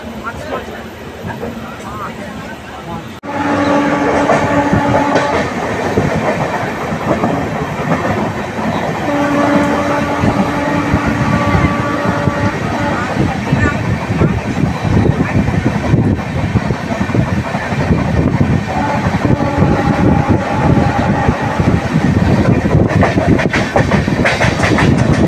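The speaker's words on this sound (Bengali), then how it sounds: "পরে তার স্বাভাবিক গতিতে ইস্পাত এক্সপ্রেস সামনের দিকে ছুটতে লাগলো।" The Ispat Express runs steadily along the tracks with a loud, continuous rumble and rhythmic clickety-clack heard from close by, and a horn sounds in several short, sustained blasts throughout.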